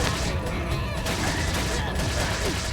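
Rapid bursts of gunfire from the video game Resident Evil, loud and dense, merging into a continuous crackling barrage over busy game noise for nearly three seconds.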